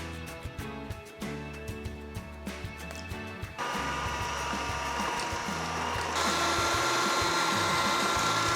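An electric mixer whirs through gingerbread cookie batter with dark syrup and one egg. The steady motor hum is close and even, and it steps up twice to a louder, harsher whine as the speed rises.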